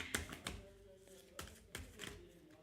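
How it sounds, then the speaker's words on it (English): Tarot cards shuffled by hand, heard as several quick, soft riffling and tapping bursts at close range, separated by short pauses in a quiet room. "I'm going to shuffle for one more card."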